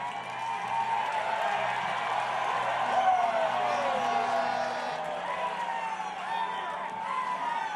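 Crowd noise at the Carolina Hurricanes championship parade celebration, a broad sustained roar of cheering and scattered clapping from a large outdoor crowd, with faint siren-like tones and a voice over the public address.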